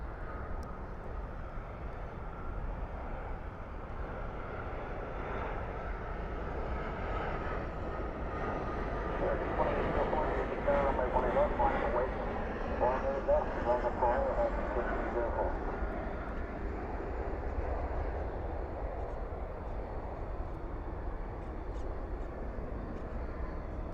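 An airliner landing at DFW at night roars in a long steady wash as its spoilers rise and thrust reversers deploy, swelling in the middle and fading slightly, heard from a distance.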